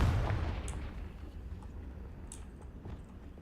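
A Confringo spell blast from Hogwarts Legacy bursts loudly at the start with a deep boom, then decays into a quieter rumbling tail with scattered faint pops and crackles.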